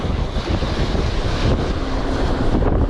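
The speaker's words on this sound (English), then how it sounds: "It's very windy out here." Strong wind buffeting the microphone at the shore on a fluke fishing trip, a constant roar with surf and waves washing underneath; loud and unbroken, no voices.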